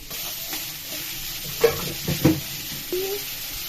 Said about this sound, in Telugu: స్టవ్ మీద ప్యాన్ పెట్టుకొని నూనె పోసుకోవాలి. అందులో ఉల్లిగడ్డలు వేసుకోవాలి.